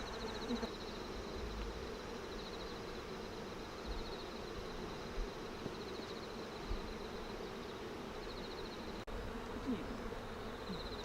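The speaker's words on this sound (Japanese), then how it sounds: "ここに女王蜂がいるので、" Bees swarm around a queen bee at a hive, their buzzing a steady, close, continuous drone with brief louder swells as individual insects pass near.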